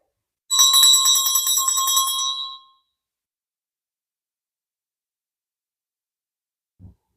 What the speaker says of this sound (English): Must ring the bell.